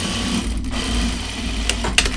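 Sewing machine topstitching a yoke seam on a shirt, a steady close mechanical whirr running throughout with a couple of sharp clicks near the end.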